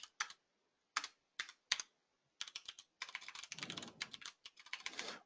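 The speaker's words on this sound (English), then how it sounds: "I cannot type today." Computer keyboard typed on by a high school mechatronics instructor coding LED on and off commands: short bursts of clicks, then a faster, denser run of keystrokes close to the microphone with no speech.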